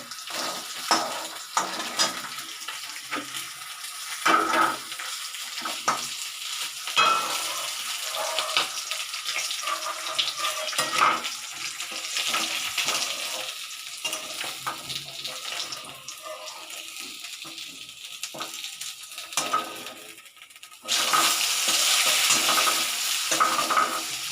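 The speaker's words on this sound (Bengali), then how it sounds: "এবার আমি মাছের মাথাটা ভেজে নেব" A fish head frying in a pan, with steady sizzling and spattering mixed with stirring and clattering, growing into a louder, denser sizzle toward the end.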